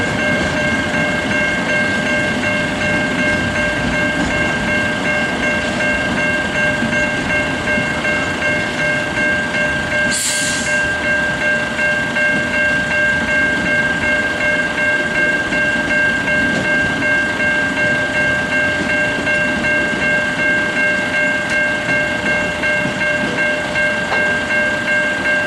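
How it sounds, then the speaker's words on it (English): Two suburban electric trains pass a station on the Gawler Line, a steady continuous rumble with clattering and tonal whine throughout and a brief burst near the middle. "Two suburban trains have passed"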